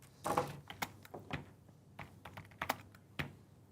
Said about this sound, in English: So, sorry, I was typing.